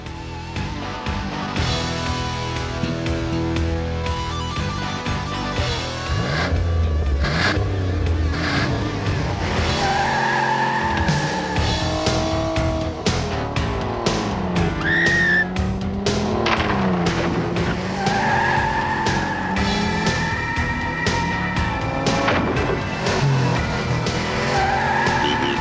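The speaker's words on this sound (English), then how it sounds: "Driving like Rick can cause a lot of damage" Car driven recklessly, engine revving hard with repeated tire squeals and skids, loud and continuous throughout with no talk.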